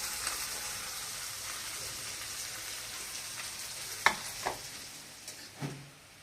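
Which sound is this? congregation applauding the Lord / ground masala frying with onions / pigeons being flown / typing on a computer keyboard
ground masala frying with onions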